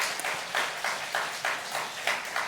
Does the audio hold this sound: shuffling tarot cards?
no